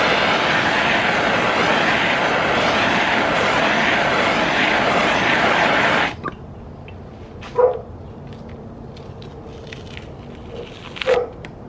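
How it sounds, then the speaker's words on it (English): A handheld torch roars steadily as it heats the sandpaper stuck to a worn sanding pad so it can be peeled off. The loud, even hiss lasts about six seconds, then cuts out abruptly, leaving near-quiet with a couple of soft knocks. "So take the torch to it"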